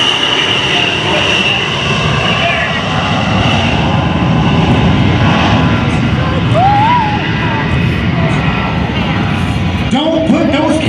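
An A-10 Thunderbolt II with high bypass engines passes at the 2021 Greater Binghamton Airshow, a loud, continuous jet roar that fills the whole stretch, with a faint voice underneath.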